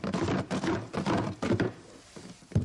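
Wooden numbered blocks rattle and thunk inside a box as it is shaken hard, a rapid series of irregular knocks in bursts, close and fairly loud.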